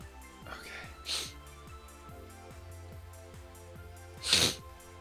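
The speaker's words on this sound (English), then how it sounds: "I gotta sneeze" Two sharp sneezes burst out during a live programming stream, one early and a stronger one near the end, over a steady electronic background with a looping rhythmic pulse.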